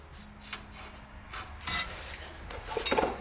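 A nut is threaded back onto an anti-seize-coated front suspension bolt of a smart 451: faint, quiet metallic scraping and ratchet-like rubbing, growing slightly busier toward the end.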